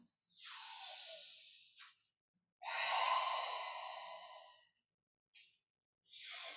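Slow, deep breaths during a post-workout stretch, sitting back on the heels: two long, audible exhales, each a soft breathy rush lasting a couple of seconds, with brief quieter intakes between them and no talking.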